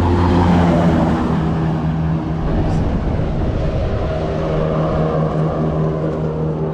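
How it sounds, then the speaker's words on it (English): A car with a trailer passes on a national highway, a loud sustained engine hum and tyre roar that swells and eases over several seconds with no voices. "this car is passing, but it's passing because we are in the highway"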